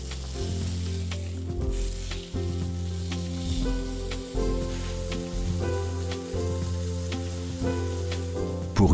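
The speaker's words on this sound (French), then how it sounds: "disposez la viande dans l'ustensile de cuisson. Retournez-la après quelques minutes." Meat sears and sizzles steadily in a Demeyere cooking pan, a continuous frying hiss running throughout, close and moderately loud, with sustained tonal music playing underneath.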